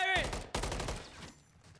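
Gunfire from Call of Duty: Modern Warfare 3 during a $10,000 tournament match arrives in quick bursts of sharp cracks, fairly faint, with a short tonal blip at the start before the shots trail off.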